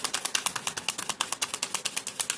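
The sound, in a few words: tarot cards being shuffled by hand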